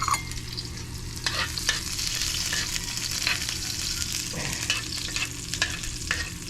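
Ingredients sauté in a hot pan with a constant sizzle, broken by frequent stirring scrapes. The sound is close and steady, and nobody speaks.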